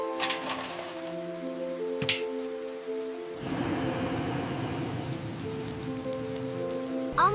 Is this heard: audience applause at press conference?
no